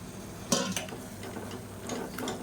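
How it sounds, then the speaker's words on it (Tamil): Bottle gourd sautéed with tomato masala in a pan for a kuzhambu makes a soft, even sizzle with a couple of brief scraping stirs of a spoon, close and without speech. "இதையும் சேர்த்து நல்லா வதக்கிக்கலாம்"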